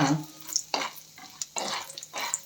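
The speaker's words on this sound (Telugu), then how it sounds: "ఇవి ఇందులో వేసిన తర్వాత ఇవి కొంచెం ఫ్రై అవ్వనివ్వాలి" Mustard seeds, urad dal and chana dal frying in hot oil, heard as bursts of crackle and sizzle broken by stirring scrapes against the pan, close up and without talk.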